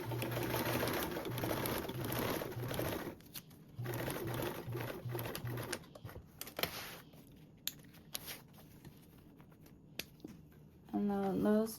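A home sewing machine stitches a duffle bag in short bursts, with a brief stitch, a back tack and a longer run, separated by pauses and small handling clicks. A voice speaks in between.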